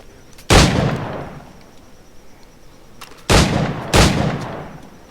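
Three loud gunshots from free-aimed fire at targets in Assassin's Creed 4 Black Flag, each a sharp crack with a long decaying tail: one early, then a pair a little over half a second apart, with quiet ambience between.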